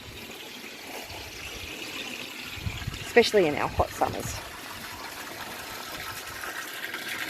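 Water pours through a pipe draining an aquaponics grow bed and sucks air through a hole, giving a continuous gushing trickle with brief gurgling bursts partway through, while a person talks over it.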